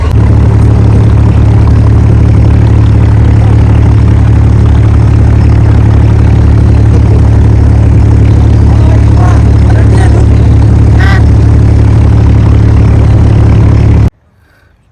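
An old ferry boat engine on the Dubai Creek crossing from Bur Dubai to Deira idles in a loud, steady low drone that continues unbroken before cutting off abruptly near the end.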